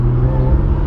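An Audi S4 with an upgraded intake accelerates, its supercharged engine giving a loud, steady whine over a deep engine drone in one short, close burst.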